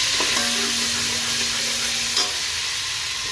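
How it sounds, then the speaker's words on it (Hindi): Garlic frying in oil in a pan gives a steady, close broadband sizzle with a faint stir or clink near the start and a small knock just past the two-second mark, no voices. "सबसे पहले हम इसके अंदर लहसुन डालेंगे"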